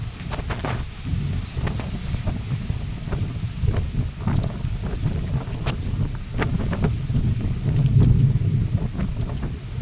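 Stormy night wind on a dark, empty road during the ride home, roaring as a steady low rumble that buffets the microphone, with gusts swelling louder near the end and no voices.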